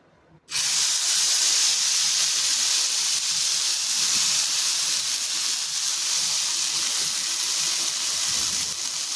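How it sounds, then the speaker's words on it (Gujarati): Poha breakfast batter spread onto a hot, oiled griddle (tava) sizzles loudly and steadily, a broad hiss that starts abruptly and holds unbroken to the end with no voices. "હવે આપણે તવાની ઉપર આપણે નાસ્તાનું ખીરું પાથરી લઈશું"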